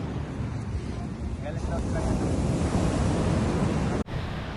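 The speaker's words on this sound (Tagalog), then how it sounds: "pinakikinggan ang alon ng dagat" Waves wash steadily onto the shore of Snoopy Island, Fujairah, UAE, a continuous surf rumble with wind, ending in a brief knock.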